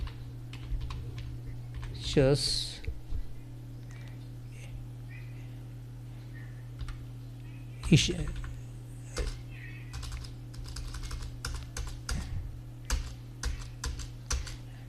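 Someone types a narration on a computer keyboard while entering a purchase order in Tally Prime, producing close, rapid runs of clicking key presses. A cat meows twice, and a steady hum sits underneath.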